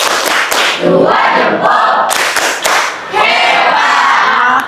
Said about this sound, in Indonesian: Oke, tepuk tangan dulu. Beri dia tepuk salut